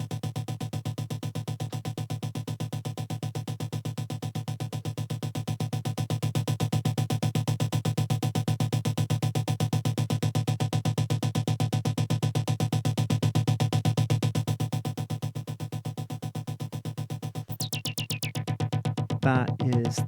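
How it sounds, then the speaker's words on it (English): Synth playing in Ableton with an LFO switched on modulating the filter cutoff, a sustained buzzy tone pulsing in a fast steady flutter, swelling and fading slightly, ending with a brief high glitchy burst. "So when we switch the LFO on, it sounds like this."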